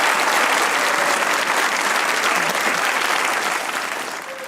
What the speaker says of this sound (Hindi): वो तालियां बजा के बताया हमें